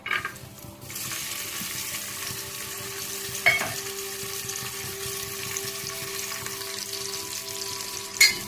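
Bay leaves sizzle steadily in refined oil in a pressure cooker, a constant close-up hiss with a couple of sharp clinks from utensils.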